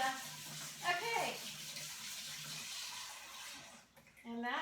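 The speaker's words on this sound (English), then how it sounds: "Okay, I'm rinsing the pasta." Tap water runs steadily into a kitchen sink as pasta is rinsed, a close hissing splash that continues throughout, with someone speaking briefly over it.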